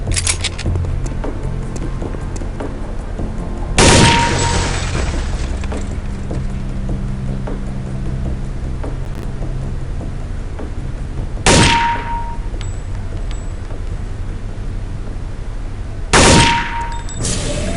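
Weapon fire at training targets in Counter-Strike: Condition Zero comes as three sharp, loud shots spaced several seconds apart, each with a ringing tail, over a steady low ambient hum.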